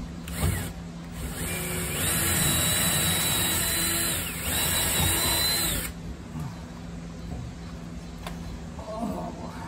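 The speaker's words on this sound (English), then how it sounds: "Just getting everything pre-drilled before we get to the point where we're actually going to epoxy them on" A power drill bores pre-drilled holes for through bolts during a Wharram Tiki 21 catamaran build, a steady high whine over several seconds that cuts off and then resumes briefly, with workshop noise around it.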